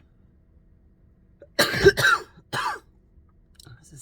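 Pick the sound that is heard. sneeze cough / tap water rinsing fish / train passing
sneeze cough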